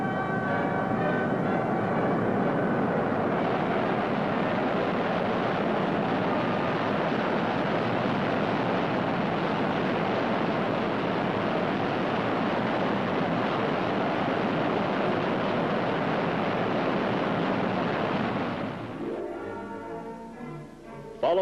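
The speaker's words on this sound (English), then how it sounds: "ground running of the engines." Avro Arrow jet engines run on the ground with a loud, continuous broadband roar that holds steady for about eighteen seconds, then fades and breaks up at the end.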